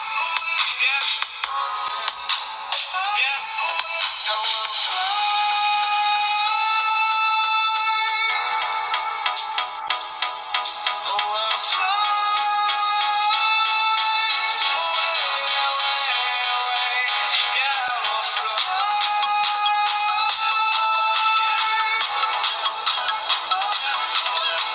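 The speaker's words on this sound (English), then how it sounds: "Now a sound test with the built-in speaker." A ringtone melody plays loud and continuous through the built-in speaker of a UMI Plus phone. It sounds bright and tinny, with bass missing entirely.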